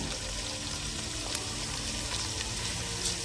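Cumin seeds sizzle in hot oil during tempering for a Telangana-style bottle gourd curry, a dense, steady hiss that fills the clip at an even level with no voices.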